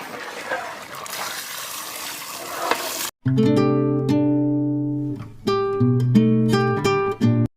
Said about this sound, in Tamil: கறி வேகிறதுக்கு தண்ணி